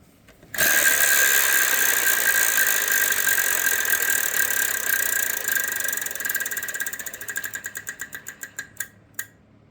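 A Wheel of Fortune game-show wheel spun on the 1995 Walt Disney World set: a loud, rapid ratcheting clatter that holds steady, then slows into distinct, spaced clicks before stopping.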